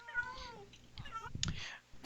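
Pet cats meowing: several faint, wavering meows in quick succession, followed by a few softer rustling sounds, heard quietly at close range.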